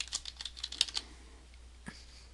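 A short burst of quick keystrokes on a computer keyboard as a word is entered in the Start menu search, close and crisp, then a single key press after a pause.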